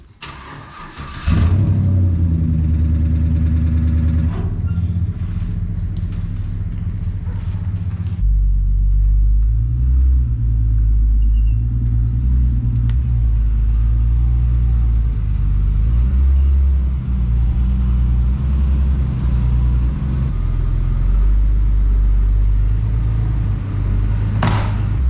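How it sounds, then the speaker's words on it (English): A Nissan Z car engine cranks and starts, then idles with a loud, close, deep rumble; the idle shifts partway through and continues steadily, with a faint lifter tick possible beneath the exhaust. "And let's pull that Z here in the shop. Get ready for that lifter tick."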